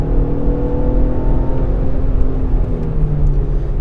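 A Ford Explorer King Ranch with a 3-liter EcoBoost engine producing 365 horsepower, heard from inside while driving: a steady engine drone and road rumble with faint rising tonal whine, continuous and moderately loud, no talking.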